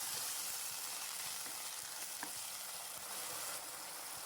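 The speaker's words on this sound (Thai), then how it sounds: "ผัดให้ไก่ของเราสุกให้หมดเลยนะครับ ใช้ไฟกลางนะครับผัดไปเรื่อยๆเลย" Chicken sizzles steadily while being stir-fried in a pan over medium heat, a continuous close frying hiss broken by faint scrapes and clinks of stirring, with no voices.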